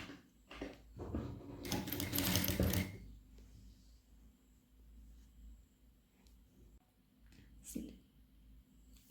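Sewing machine stitching a folded sleeve hem for an overcoat, a short burst of quick rattling stitches near the start, then quiet handling with a brief second run near the end.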